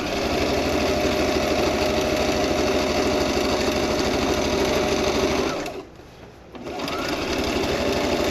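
A sewing machine stitches a T-shirt with a loud, steady mechanical whir and rapid needle chatter close by, pausing briefly for about a second before running again.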